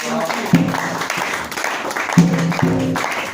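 Applause from a church congregation acclaiming the king rolls on continuously, with a voice calling out over the clapping.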